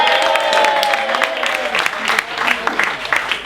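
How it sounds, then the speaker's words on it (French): Audience applause at a one-man comedy show, clapping from a crowd mixed with cheering voices and chatter, sharp individual claps scattered over the noise. "applaudissez pour la Côte d'Ivoire"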